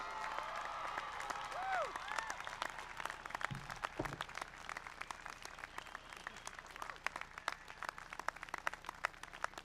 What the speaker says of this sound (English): Can you please give a warm round of applause to all our graduates again?